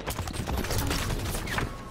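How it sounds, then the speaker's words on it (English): Rapid weapon fire from incineration cannons in a Halo 5 Big Team Battle match, a dense barrage of bursts and blasts filling the whole moment with no talk over it. "Incineration cannons on the field."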